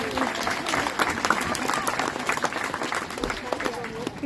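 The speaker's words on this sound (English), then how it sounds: "How about a round of applause for him?" Spectators at a bird show clap and cheer in a lively burst of applause, with a few voices and bird-like chirps mixed in amid the steady clapping.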